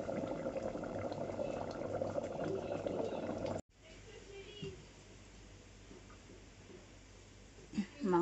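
Chicken curry with large potato chunks simmering in a covered pot, a steady soft bubbling hiss that cuts off sharply and returns quieter, with a voice speaking near the end.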